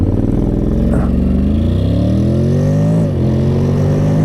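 Honda X-ADV 750 DCT scooter from 2024 accelerating from close by, a steady engine note climbing in pitch through automatic shifts, with a brief dip before rising again, no talk.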